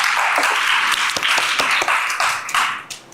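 A school admissions-session audience claps for department head Kim Bong-sik, a close, fairly small group whose individual sharp claps stand out within steady applause that tapers off toward the end.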